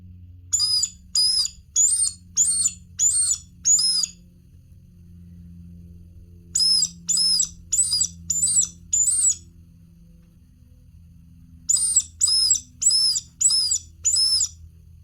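A squirrel whistle imitating a distressed baby squirrel caught by a predator, blown in three bursts of five or six sharp, high squealing notes with short pauses between the groups, loud and close with no talking.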